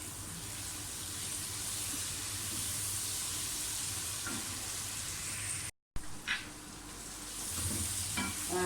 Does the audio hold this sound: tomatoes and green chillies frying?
yes